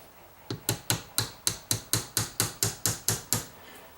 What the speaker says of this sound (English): Very light tapping. Just want to make sure it pokes through the other side.